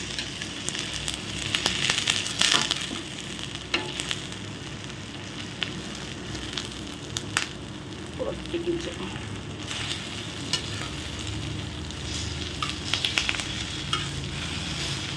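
Wheat bread fries in a pan with a continuous close sizzle and crackle, punctuated by scraping and tapping as it is stirred and flipped, with no talking.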